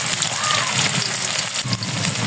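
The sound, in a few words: vegetables frying in a pan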